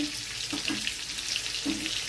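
Potatoes frying in a pan on the stove give a steady close hiss and crackle, with a few soft clinks of utensils on top; no one speaks.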